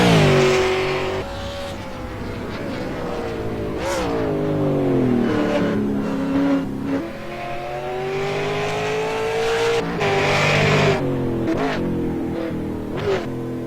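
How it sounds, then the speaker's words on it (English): V8 race cars roar loudly and continuously, engines revving up and down with rising and falling pitch as they pass close by, with occasional sharp bursts of acceleration. "Those V8s are pretty loud."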